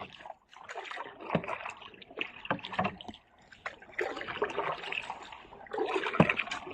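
A small boat with a leak splashes and sloshes through water, paddle strokes and ripples coming in uneven bursts, fairly faint and close.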